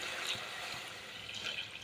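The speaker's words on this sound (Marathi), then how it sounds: "आता मी याच्यामध्ये पाणी ओतते" Water pours into a pan of fried mutton, a faint, steady trickling splash that runs the whole time with no talking.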